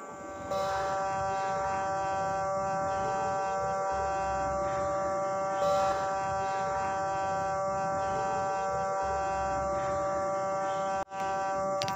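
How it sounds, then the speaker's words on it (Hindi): A battery charger's chopper transformer on a ferrite core buzzes and hums steadily, a close, continuous vibrating tone with a sustained whine that runs unbroken throughout, briefly dipping near the end. "चॉपर भी इसमें से काफ़ी ज़्यादा शोर निकाल रही है"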